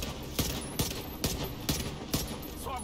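Rapid bursts of gunfire in The Division 2, five or six sharp, loud shots or short volleys landing at a steady, roughly half-second rhythm over a constant game background, with no talk.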